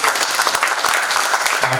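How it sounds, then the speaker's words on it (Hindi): A theatre audience at a play's opening gives vigorous applause, a loud, dense burst of many clapping hands throughout. "मैं चाहूँगा एक बार जोरदार तालियों से"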